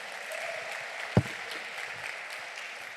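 A church congregation claps during a celebration service, a fairly faint, even patter of applause with one sharp knock partway through.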